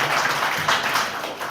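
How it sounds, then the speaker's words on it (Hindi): A crowd claps steadily at an outdoor World Environment Day event in Mirganj, with dense, even applause holding for the whole moment and no voices over it. "एक बार जोरदार तालियों से स्वागत करें ज्वाला जी।"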